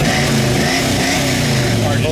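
A 1966 Chevrolet Chevelle with a big block engine revs in short surges, giving a close, rumbling exhaust roar with a low throb throughout, partly under someone talking.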